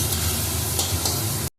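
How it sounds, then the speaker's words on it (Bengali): Mushrooms and onions frying in a pan, with a steady, loud, close sizzle and occasional stirring scrapes throughout, then an abrupt cut to silence. "মাশরুম পেঁয়াজ দিয়ে এখন ভাজা হচ্ছে।"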